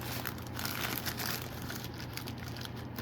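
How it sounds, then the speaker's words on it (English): Packaging for an Entronic Vigilante Z-100 smoke alarm is torn and crinkled apart close by, a continuous soft rustling and crumpling of paper or plastic with no voices. "Ripping this apart."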